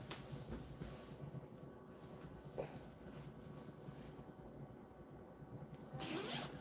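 A metal zipper runs along a full-zip hoodie, close and fairly quiet, with a quick rasp near the start and a brighter, louder zip at the end over a low room background.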